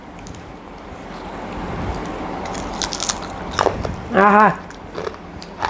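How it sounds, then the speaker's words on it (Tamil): Homemade nacho chips are bitten and crunched close to the microphone in a few brittle snaps, with a brief exclamation from a voice over the crunching. "இதில் இப்போது சிப்ஸ் சாப்பிட்டு பார்க்கலாம்."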